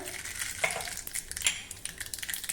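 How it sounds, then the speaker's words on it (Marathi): Mustard seeds sputter and crackle in about a spoonful of hot oil for a tempering, giving a steady close sizzle with scattered sharp pops and no talk. "तेल गरम झालं की त्यामध्ये मोहरी घालूया"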